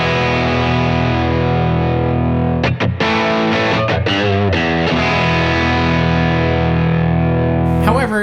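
Sustained distorted electric guitar chords through a Sonicake FlipVol volume pedal ringing out, with a few quick choppy strums in the middle and the level holding steady.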